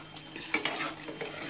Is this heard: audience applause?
no